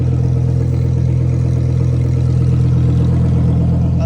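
A wide-body Lamborghini Huracan Evo engine runs loud and steady just after a cold start, a dense deep rumble at high idle filling the whole stretch, close by with no talking.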